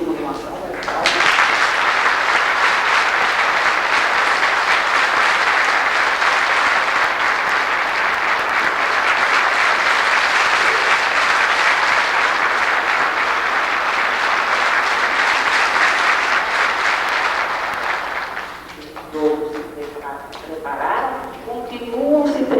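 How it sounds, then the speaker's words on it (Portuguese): A sustained round of audience applause thanking the performers of a spiritist Christmas play, loud and steady for nearly twenty seconds before it dies away and a voice starts talking. "a quem agradecemos e pedimos uma salva de palmas"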